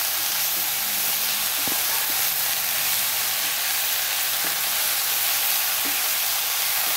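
Chopped banana flower is stirred with coconut paste in a hot pan for a Kerala-style thoran, giving a loud, continuous sizzle with a few faint scraping knocks from the spoon and no voices.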